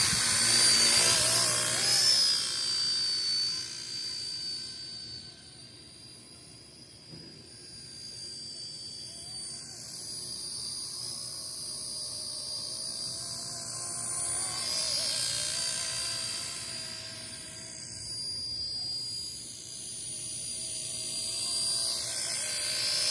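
An RC ERA C032 model helicopter in blue and yellow flies in desert open air, its steady high rotor and motor whine rising and falling as it circles near and away, with no talk.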